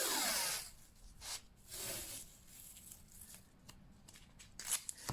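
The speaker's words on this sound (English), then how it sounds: "indent there with your nail or a tool, and then just snip that off." Scissors snip paper while a card journal cover is trimmed, a few short crisp cuts with rustling in between, close and fairly quiet, without any talking.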